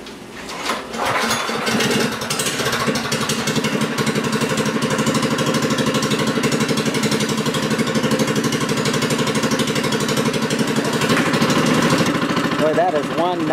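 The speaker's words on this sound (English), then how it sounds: "one nice running motor" A Monocar's motor, an engine formerly fitted in a Studebaker, runs at a steady even idle nearby, a continuous mid-pitched mechanical drone lasting throughout with little change.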